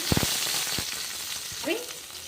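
Tomatoes tipped into hot oil over golden fried onions for a North Karnataka-style palya, crackling and sizzling steadily at close range with a few sharp pops at the start, no talking.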